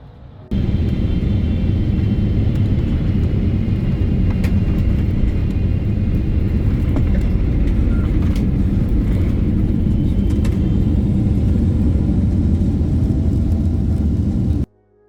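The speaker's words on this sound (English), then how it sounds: "enjoy this very smooth landing into Pudong Airport" A Cathay Pacific airliner landing at Shanghai Pudong Airport, heard from inside the cabin as a steady, loud low roar of engines and airflow. It holds almost unchanged for about fourteen seconds, with faint rattles on top.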